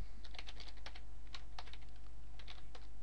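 Fingers type on a computer keyboard in a run of quick, fairly faint clicks with short pauses between bursts, over a low steady hum.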